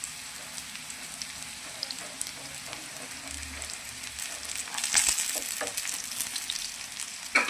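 Potatoes fry in hot oil with a steady, bright sizzle and crackle throughout, swelling louder partway through as they are stirred in the pan; no voices.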